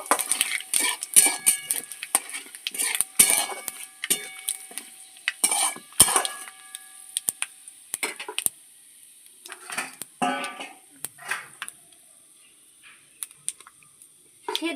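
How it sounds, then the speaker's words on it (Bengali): Dry red chillies and five-spice tempering stirred in hot oil in a pan, heard as repeated metallic scrapes and clinks of a utensil against the pan in uneven bursts, with brief quiet gaps and a faint sizzle. "দুটো শুকনো লঙ্কা পাঁচ ফোড়ন ফোড়নটা ভালো করে একটু তেলে নেড়ে নেবো"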